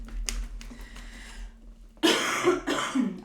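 Harsh coughs burst out close and loud, two or three in quick succession near the end, after a quieter stretch with a faint low hum and a few soft clicks.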